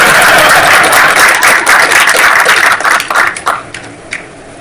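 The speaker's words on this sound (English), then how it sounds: "Keep applauding." A gaming convention crowd applauds loudly as a speaker comes up to present, dense clapping that thins into scattered claps and then a few final isolated ones.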